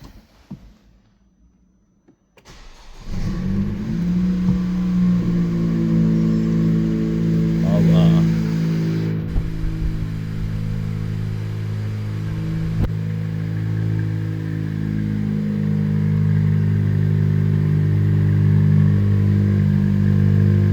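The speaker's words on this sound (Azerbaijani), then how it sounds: "İndi gedək, bir dənə cold start eləyək" A Honda Civic engine cold-starts after a couple of seconds of near silence, then settles into a steady, close, continuous idle rumble for the rest of the clip.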